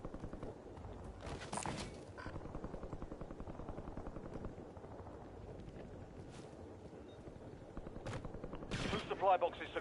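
Gunfire in the video game Warzone, scattered sharp bursts rising over a constant rotor-like drone, with a louder cluster of shots near the end.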